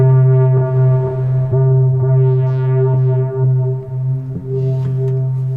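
A mono modular synth through a Dark Matter distortion pedal: a sustained, buzzing tone drones steadily with a thick, gritty low end and small pitch shifts throughout.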